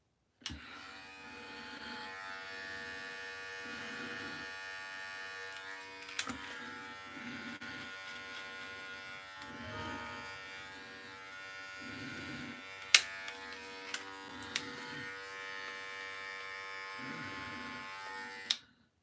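Electric hair clipper buzzing steadily throughout while cutting hair at the front during a home self-haircut, a continuous close motor hum with a few sharp clicks near the end and no talking.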